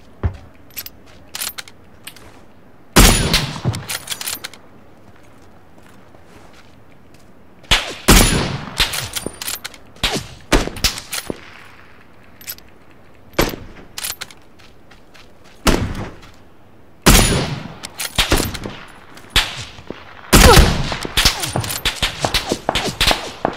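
Gunfire in PUBG, including sniper rifle shots, cracks in loud, sharp bursts and single reports scattered irregularly across a quiet background, some shots near and some more distant, with clangs and thuds among them.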